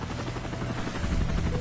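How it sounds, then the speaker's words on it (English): A helicopter approaches in the shooter Call of Duty: Modern Warfare 3, its rotor thumping as a steady, loud, low pulsing beat with no voices over it. "Alright, helicopter's coming."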